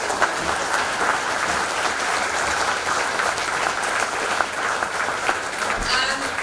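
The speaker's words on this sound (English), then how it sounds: "a special round of applause for the entire team convention" A hall full of people applauds continuously at the inaugural session of a business school convention, a steady, fairly loud wash of clapping with no pauses.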